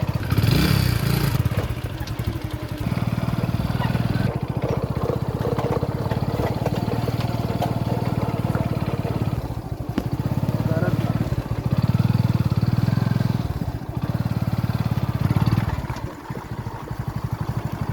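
Off-road motorcycle carrying two riders through jungle terrain, its engine chugging and revving steadily close by with rattling clatter, swelling louder in stretches, while people talk over it.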